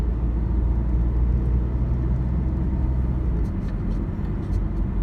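Car driving along Camden Valley Way in New South Wales, Australia, a steady low interior road rumble and engine drone throughout, with faint tyre noise and no talk.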